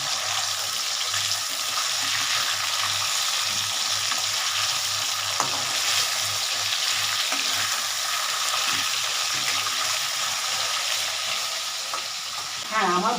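Hilsa fish fries in a pan with a loud, steady sizzling hiss that runs unbroken, with a few soft clicks from turning the pieces and no talk.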